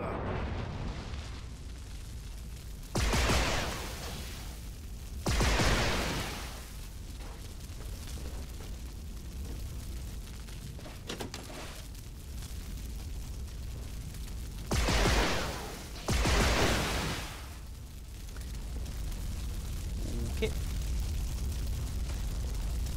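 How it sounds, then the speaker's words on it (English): Explosions in the video game Duke Nukem Forever, several loud booming blasts, two pairs of bursts spaced apart over a continuous low rumbling background. "That was gonna explode."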